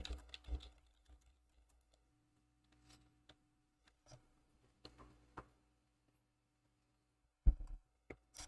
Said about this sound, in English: Let me just type this here.